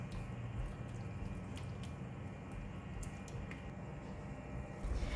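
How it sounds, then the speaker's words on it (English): Sambal paste being stirred with a splash of water in a pan for spinach sambal, giving a steady wet squishing, sloshing texture close up, continuous with small drips and no speech. "Stir and mix until the sambal paste and the water are well combined."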